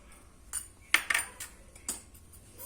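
Onion fritter batter mixed by hand in a bowl, faint soft stirring with a few sharp clinks of a utensil against the dish, close and quiet with no talking.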